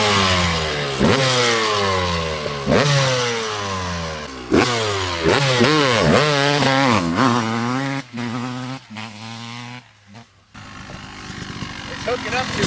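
A 1993 Yamaha YZ250 two-stroke dirt bike engine revs up sharply for a hole shot start, rising and falling in repeated loud, close bursts before dropping off near the end.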